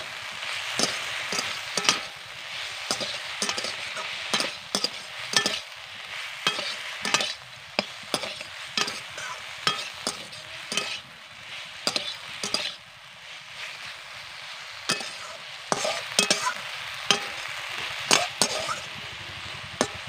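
Gima greens fry with turmeric and salt while a spatula stirs and scrapes the pan in frequent sharp strokes over a steady sizzle, close up with no talking.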